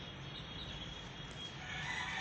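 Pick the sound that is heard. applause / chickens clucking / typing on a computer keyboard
chickens clucking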